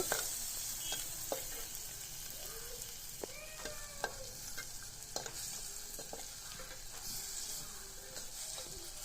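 Spice paste for South Indian rasam frying in a pan, a soft continuous sizzle broken by scattered scraping and tapping stirs of a spoon against the pan, close and fairly quiet.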